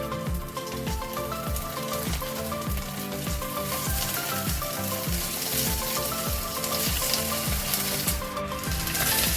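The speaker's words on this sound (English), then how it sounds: "Fry the shrimp on both sides until nicely golden" Shrimp frying over high heat in a tablespoon of hot vegetable oil, a steady dense sizzle with crackling pops throughout, close and loud with no talking.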